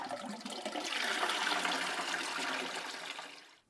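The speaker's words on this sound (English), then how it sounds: "This is a dual flush valve, so to get the full flush, we have to press and release all the way down," A toilet fitted with a Fluidmaster Easy Fit Ultra dual flush syphon runs a full flush, a steady loud rush of water lasting several seconds that fades at the end, heard alone without talk.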